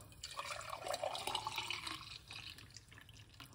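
A green apple drink pours and splashes with an uneven gurgling trickle, close by, fading toward the end, with no voices.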